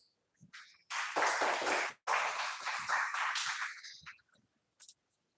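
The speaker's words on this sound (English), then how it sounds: "Please give them a big round of applause" An audience at a stock pitch competition applauds the judges in a dense burst of clapping lasting about three seconds, briefly broken and then fading out.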